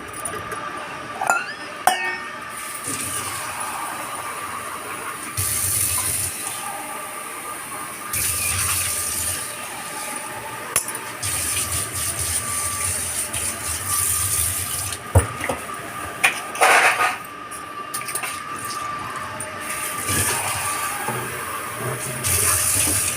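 Steel wool scrubbing a kitchen pan, then water running from a tap over it, a steady rushing wash broken by pauses and a few metallic clinks, close and fairly loud.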